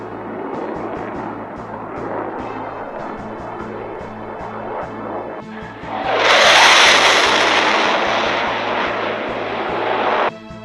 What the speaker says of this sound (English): something was flying above them at high speed. It was the Batjet coming at them.